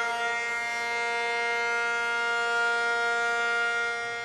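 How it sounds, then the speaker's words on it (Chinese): A long, steady all-clear civil defense siren sounds continuously at a single held pitch, loud and unbroken, marking the end of the Wan An air-raid drill in Pingtung. "30分过后，长声解除警报，演习顺利结束。"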